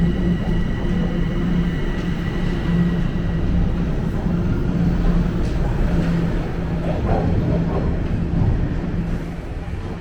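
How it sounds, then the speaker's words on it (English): A subway train rumbles steadily for the whole stretch, a loud, continuous low roar with faint metallic squeals rising near the end as it rolls into a Toronto station. "Oh, here comes another train."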